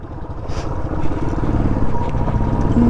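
A Royal Enfield Bullet motorcycle engine thumps steadily and loudly throughout while riding uphill off-road, a continuous low rumble with a slight rise in effort.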